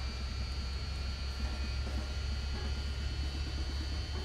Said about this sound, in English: The start sounds and the external sounds on this airplane are really pretty good